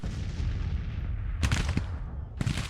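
Artillery fire in Grand Tactician: The Civil War, two sharp booming shots about a second apart rising over a steady low rumble of distant battle noise.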